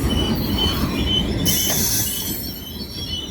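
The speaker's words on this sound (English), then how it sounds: "The General Electric locomotive." A General Electric locomotive working alongside EMD units hauls a heavy loaded rock train, giving a loud, continuous rumble and grinding roll of wheels on track with a brief high squeal, close by and steady throughout.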